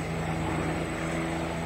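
A World War I Fokker D-7 biplane chases a Spad at an airshow, with a steady, droning engine and propeller hum holding at an even level throughout.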